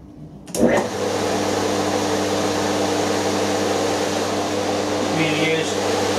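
A rotary phase converter motor with its pulley refitted runs with a steady, close electrical hum and whirring air, droning evenly after a brief startup thump, with a voice speaking over it.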